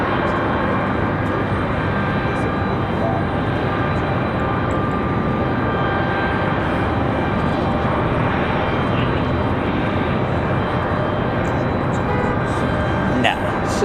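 Southwest Airlines Boeing 737-800 jet arriving at Raleigh-Durham airport after a flight from Austin, a steady broadband engine roar holding loud and constant throughout, with a brief bump near the end.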